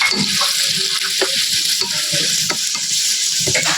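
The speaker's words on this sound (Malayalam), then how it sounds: "ഇനി അതിലേക്ക് നമ്മൾ ഒരു 4 ചെറിയ സവാള അരിഞ്ഞതിട്ട് കൊടുക്കുന്നുണ്ട്. അതൊന്ന് വാട്ടി കൊടുക്കാം." Four small chopped onions sauté in a hot pan for a Palakkad-style biryani, with a steady frying sizzle under repeated scraping stirs of a spoon against the pan.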